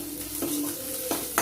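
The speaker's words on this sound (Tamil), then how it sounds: "வெங்காயம் வதங்கி அதுலேருந்து எண்ணெய் விட ஆரம்பிச்சிருச்சு" Onions sautéing in oil in a pan for tempering, a steady soft sizzle with a few scrapes and stirs of a utensil against the pan.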